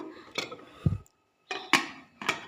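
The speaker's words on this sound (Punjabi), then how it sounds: "ਕੁੱਕਰ ਆਪਾਂ ਹੁਣ ਬੰਦ ਕਰ ਦਿੰਨੇ ਆ" Lid of a pressure cooker clanks shut while aloo chana cooks, giving a few sharp metallic clatters and knocks in separate bursts with a short silent gap between them.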